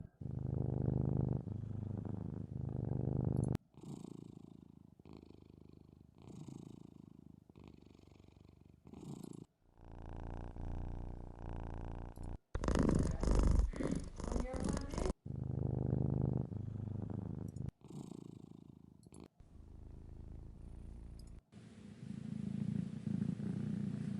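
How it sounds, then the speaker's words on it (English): Cat purring sound effect auditioned for a 3D game, heard as a low rumbling purr in several separate segments with short gaps between them, some brighter or noisier bursts mixed in, quiet overall. "There's something oddly satisfying about these cat sounds."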